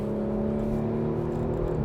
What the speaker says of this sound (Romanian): auzi cum toarce motorul ăsta sub capotă